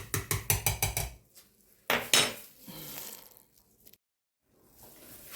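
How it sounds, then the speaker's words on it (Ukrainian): Metal spoon clinking and scraping against a pot of meatball and dumpling soup, a quick run of about seven sharp taps followed by a couple of louder clanks and softer stirring, close and alone. "Так гарно перемішую"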